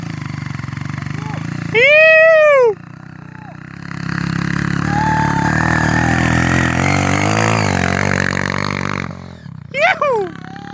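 Motorcycle engine revving and straining on a dirt trail on the way to a waterfall, a long loud droning climb under people shouting encouragement, with bursts of high whistling or cheering at either end.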